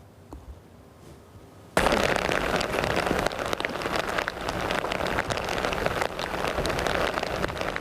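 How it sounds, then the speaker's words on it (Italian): Heavy pouring rain bursts in suddenly after a quieter opening, then a dense, loud, continuous hiss of drops pelting surfaces fills the rest, steady and close with no talk. "Pioggia scrosciante"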